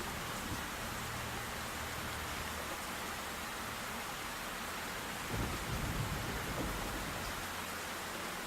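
Steady heavy rain with low thunder rumbling beneath it in the video game Black Mirror 3, a dense continuous wash with a deeper roll swelling in the latter half, no voices.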